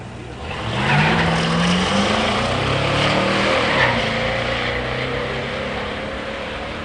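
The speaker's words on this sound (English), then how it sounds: "Pat Krieger's beautiful 70 Cyclone Spoiler gets the solo by run." 1970 Mercury Cyclone Spoiler with a 429 V8 making a solo drag racing run, its engine revving and climbing through gears in rising harmonic sweeps, loud and sustained as it pulls away.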